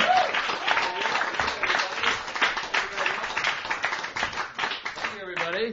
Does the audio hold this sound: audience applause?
yes